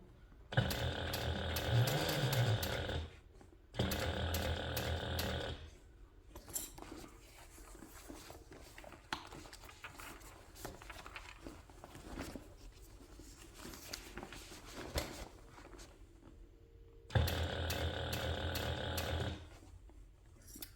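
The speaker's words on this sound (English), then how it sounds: "the sound of my presser foot coming unscrewed again" Bursts of rapid mechanical clicking and ratcheting come in three separate runs as a sewing machine presser foot works itself unscrewed, with quieter scraping and rustling between them.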